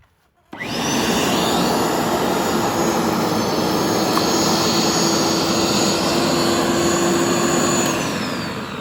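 A Parkside PLV 1500 B1 electric lawn aerator-scarifier starts up abruptly and runs with a loud, steady, droning roar close by, holding level until it eases slightly at the end.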